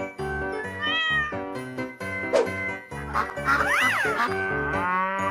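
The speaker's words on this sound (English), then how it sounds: "Cat." A cat meows loudly several times at close range, with long drawn-out wavering calls one after another over a busy musical background.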